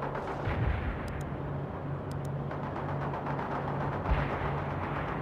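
Mortars fire in the wartime strategy game World in Conflict, a dense, continuous rumble of heavy blasts with stronger bursts near the start and end.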